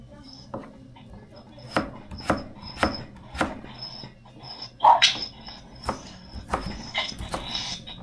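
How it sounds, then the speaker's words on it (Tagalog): A knife slicing ginger and onion on a board, with a string of sharp cutting taps, some close and crisp, spread unevenly across the moment while a voice speaks now and then in the background. "Luya at sibuyas lang po hiwain natin"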